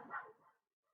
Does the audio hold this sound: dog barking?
yes